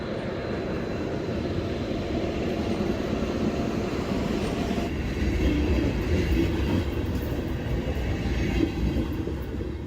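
Soviet-era passenger train rolling along rails in Ukraine, a steady loud rumble with rhythmic rail clatter that swells slightly partway through, continuous and close with no talk.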